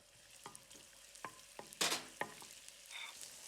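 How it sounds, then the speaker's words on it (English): Black beans dropped into hot oil in a wok, with a burst of sizzling and a few scraping stirs in quick irregular strokes, fairly faint and with no talking. "Add more oil in the same wok. Add the black beans,"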